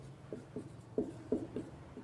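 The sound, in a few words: writing on a board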